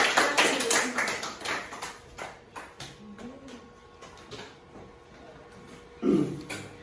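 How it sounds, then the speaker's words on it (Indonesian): A classroom of students clapping hands during a microteaching physics lesson, a burst of quick sharp claps at the start that thins into sparse, scattered taps, with a brief voice near the end. "Tepuk tangan."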